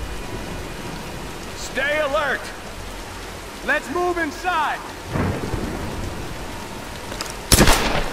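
Steady rain and thunder from a storm in the video game Tomb Raider, a continuous hiss with a sharp crack near the end, while a voice speaks over the downpour.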